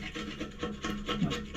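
Paint being scraped off a surface during a repair job, a faint, continuous rough rasping with slight rhythmic strokes, heard up close and alone.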